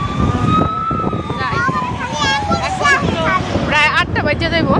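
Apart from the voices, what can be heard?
ambulance siren passing on a street in Dhaka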